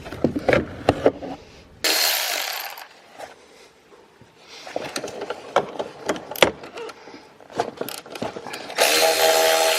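Metallic clicks, rattles and small clinks of a ratchet and loose nuts being removed inside a Toyota trunk, in scattered close bursts with bands of broad hiss between them.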